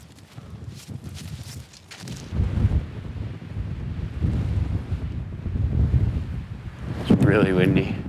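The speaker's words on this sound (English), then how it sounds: "Really windy." Strong wind roars and buffets the microphone in gusts during an elk hunt, with brief speech early on and a higher whistling sound near the end.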